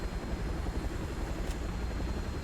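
Helicopter arriving in a video game, a steady low rotor drone and engine rumble holding at an even level, with a faint brief hiss partway through.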